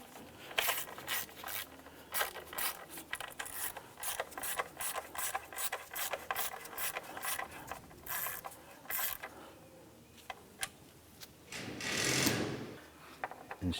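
Ratcheting and wrench clicks while snugging valve cover nuts on a 2001–2005 Honda Civic engine, a busy run of close, rapid mechanical clicks and metal scrapes with a louder rasping burst near the end.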